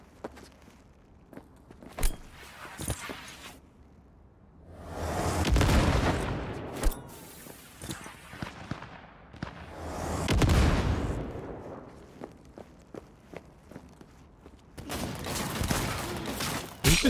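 Gunfire in Cyberpunk 2077 during a street fight: scattered sharp shots and two long rumbling bursts of heavy fire or explosions, with footsteps in between and a dense final volley, fairly loud and close with no talking.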